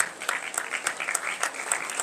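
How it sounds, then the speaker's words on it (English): A crowd at a university freshmen orientation gives a brief burst of applause for the vice chancellor, many hands clapping together in a short, even patter. "Can we be upstanding and give a round of applause?"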